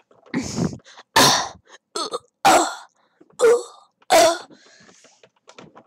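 A voice imitates coughing with a run of short, loud, harsh bursts spaced about a second apart, each sounding like a forced cough or throat clear.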